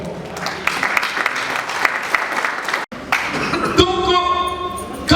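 An audience at a funeral wake vigil held in a hall breaks into dense, sustained applause, then the clapping gives way to louder, ringing cheers and voices.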